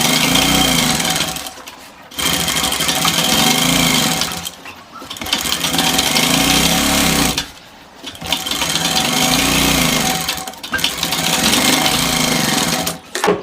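A sewing machine double-stitches a gents kurta, running loud and close in long rapid bursts separated by brief pauses.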